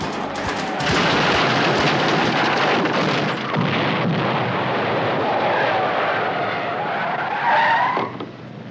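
A car-mounted gun fires in a Knight Rider TV action scene with KITT, a loud, dense, continuous barrage mixed with a revving engine and skidding tires that eases off near the end.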